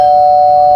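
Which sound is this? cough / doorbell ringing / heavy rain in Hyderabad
doorbell ringing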